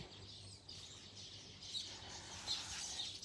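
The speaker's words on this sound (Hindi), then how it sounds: "मैंने लाइफ में ऐसी चिड़िया नहीं देखी रंग बिरंगी" A colourful bird chirps faintly at a distance, with a few short, high tweets over quiet background hiss.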